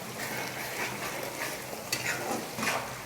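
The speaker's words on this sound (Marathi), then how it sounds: "मिक्स करून घेऊ त्याला हलक्या हाताने" A spoon gently stirs a Hyderabadi korma-style dish in a pan, making a steady soft scraping and light sizzling, with a couple of slightly louder scrapes near the end.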